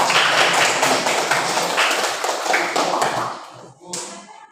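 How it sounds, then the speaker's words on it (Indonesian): Elementary school classmates clap for a group of students in a classroom, giving a burst of quick, uneven claps and taps that fades after a few seconds, with a brief clatter near the end. "Tepuk tangan buat kelompok 1."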